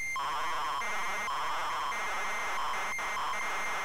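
A ZX Spectrum game loads from cassette tape: steady, loud, unbroken data tones with a constant high whine and repeated warbling bursts, heard alone with no voices.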